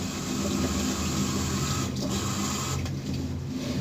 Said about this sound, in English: And then I rinse my hands off